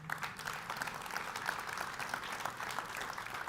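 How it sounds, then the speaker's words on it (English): Audience applause at a Chery Tiggo 4 Pro car launch, a steady, fairly faint patter of many hands clapping continuously at a distance for a few seconds. "give Chery International and Chery South Africa a huge round of applause for that"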